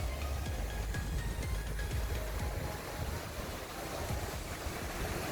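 Gentle surf washing ashore on a calm white sand beach, a soft continuous rush mixed with wind buffeting the microphone, steady and unbroken with no voices.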